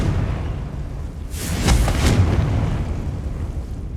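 A Confringo spell blast goes off in Hogwarts Legacy. A low rumbling bed swells into a sharp, crackling burst near the middle, then fades back to a dull background rumble.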